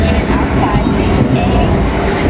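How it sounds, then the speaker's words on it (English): A train crossing the Ohio River bridge makes a steady, heavy rumble with grinding wheel-on-rail noise, loud and continuous throughout. "Yeah, that train's going in."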